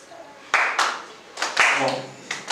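Scattered bursts of audience clapping at the 10th anniversary celebration of the Tenrikyo church in DR Congo, several short rounds of hands applauding close by, with speech between them.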